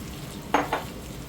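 Two brief, close scraping strokes of a spoon stirring soaked rice and dal with spices, onion and potato in a pan for Khandesh-style khichdi, over a low background hiss.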